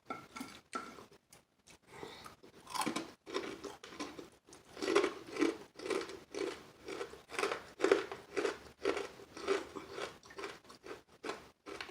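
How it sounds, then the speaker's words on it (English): Crispy chicken wings crunched and chewed close to the mic, a quiet run of repeated crackling bites with small clinks of dishes, no talk. "That was a big crunchy piece."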